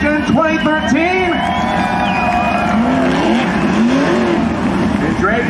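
Sprint car engines roar around the Coos Bay Speedway dirt oval during an American Sprint Car Series Northwest Region race, a loud continuous revving with crowd cheering and whoops mixed in.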